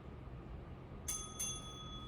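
A bell sounds twice in quick succession, a bright ringing tone that hangs on after each strike, signalling the start of a hip strength and mobility exercise over a quiet background.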